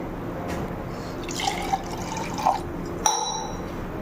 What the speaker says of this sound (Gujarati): આ થોડું પાણી નાખી